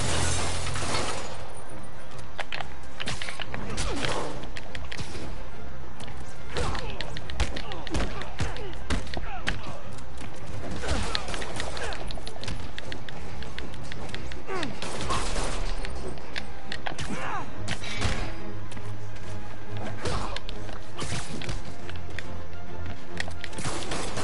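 Gunfire and smashing in the Spider-Man video game: a dense barrage of sharp shots, crashes and breaking impacts packed close together, loud and continuous, with game voices briefly calling out among them.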